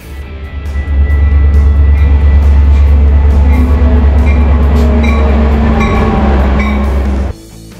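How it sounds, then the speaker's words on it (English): An airport passenger train at Singapore's airport runs with a loud, steady rumble and low hum that builds at the start and holds, then cuts off sharply near the end, with no voices. "So we're gonna just check this train out."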